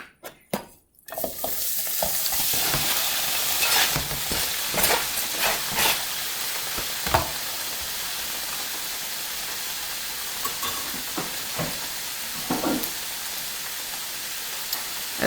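Meat browns in a hot pan for a stir-fry, giving a steady, close sizzle and crackle with occasional scraping stirs and sharper pops, continuous throughout after a brief quiet start.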